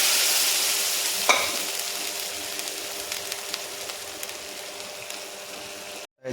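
Cooked dal is stirred into a sambar tempering in the pot, giving a soft continuous sizzle with scraping stir strokes and one sharper clink early on, before the sound cuts off abruptly near the end.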